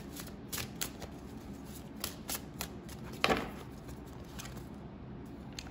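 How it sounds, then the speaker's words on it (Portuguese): Gypsy tarot cards are shuffled close by with repeated quick riffling and flicking bursts over a steady low hum, plus one louder snap partway through. "Eu vou tirar outro baralho cigano"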